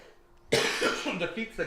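A sudden, harsh cough bursts out close by after a near-silent moment, followed by rough throat-clearing sounds and some voiced noise during a casual podcast-style conversation.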